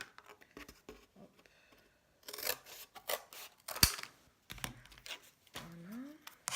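Scissors snipping through embossed paper while making a vintage card, a close series of crisp cuts and paper rustles in short bursts with pauses between.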